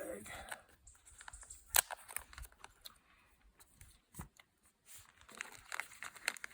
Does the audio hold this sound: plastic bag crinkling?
yes